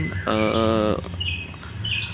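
A canary sings loudly and close, a bright buzzing trill followed by shorter high chirped phrases, with no talk over it.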